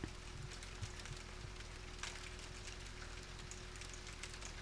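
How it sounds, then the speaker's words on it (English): Rain falling outside, a soft steady hiss of drops with scattered faint patters, constant and fairly quiet, heard from indoors with a low steady hum underneath and no talking. "The rain has begun."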